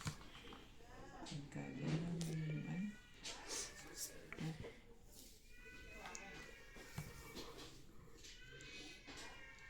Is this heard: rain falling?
no